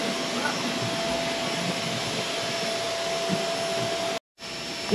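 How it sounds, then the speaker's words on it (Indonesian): A vacuum cleaner runs steadily while cleaning the rear interior of a car during a weekly car wash, a loud continuous whine that cuts out briefly near the end and then restarts. "Buat yang kat belakang ni pun kita vacuum kat dalam."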